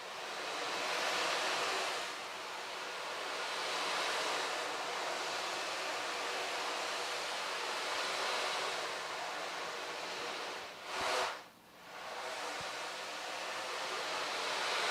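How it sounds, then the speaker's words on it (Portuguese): Horizontally played percussion instrument producing a steady wash of white noise like rain or rolling surf, continuous and fairly loud with slow swells, one brief dip and surge near the end. "ele é um instrumento de ruído branco"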